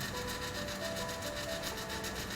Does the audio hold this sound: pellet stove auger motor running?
yes